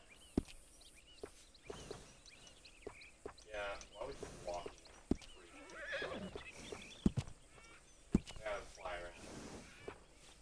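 A horse in the video game Red Dead Redemption 2 whinnies several times over clip-clopping hooves, with characters talking throughout and sharp knocks punctuating the scene.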